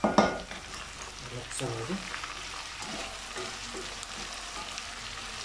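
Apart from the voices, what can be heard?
bitter gourd and potato frying in a pan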